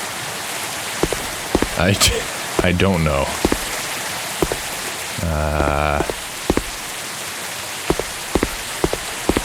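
Rain falls in an indie video game, a steady hiss with scattered drip taps, running under brief bits of speech and sound effects throughout.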